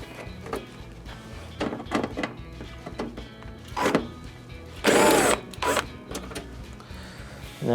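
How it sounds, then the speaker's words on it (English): Screws being backed out of the rear panel of a Maytag washer, a series of short whirring bursts from a driver with clicks and clunks between them, close and fairly quiet. "First, take the screws out of the top."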